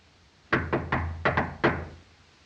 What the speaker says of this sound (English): Let him knock again.